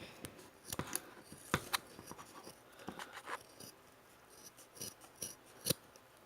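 Scissors cut a doll clothes pattern with a series of sharp, irregular snips and rustles, close and fairly quiet, with pauses between the cuts.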